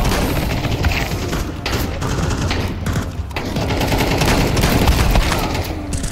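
Gunfire in the CS:GO video game: a dense, continuous barrage of shots and booms over a loud, steady roar, with no talking.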